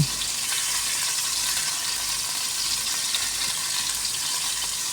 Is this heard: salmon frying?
yes